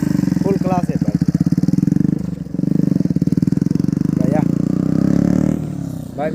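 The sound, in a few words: motorcycle with aftermarket exhaust idling and revving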